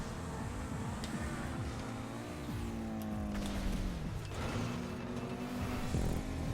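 Car engine in the GTA video game running steadily and droning throughout, with pitch rising and falling as it revs, loud and continuous with no talk over it.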